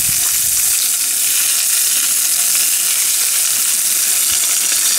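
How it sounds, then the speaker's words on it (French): Seasoned, rested meat sears in a very hot frying pan, giving a loud, unbroken hiss that stays even throughout, with no voices. "maintenant on va bien la mettre à griller dans une poêle bien chaude"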